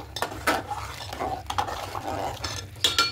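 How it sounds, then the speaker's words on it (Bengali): Rice being stirred with white cooking oil in a pan, a metal spoon scraping and clinking against the pan in irregular strokes, close and moderately loud, with no talking. "এবার দেব কিছুটা সাদা তেল, খুব ভালো করে মিশিয়ে নেব।"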